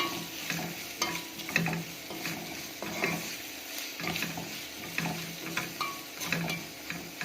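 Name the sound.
stirring seasoning and salt into liver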